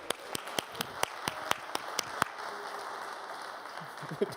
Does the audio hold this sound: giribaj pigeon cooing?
no